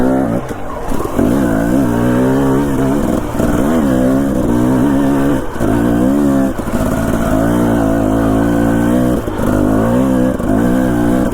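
A dirt bike engine running on a mountain single track trail, loud and close, revving up and down repeatedly with rising and falling pitch throughout and no talking.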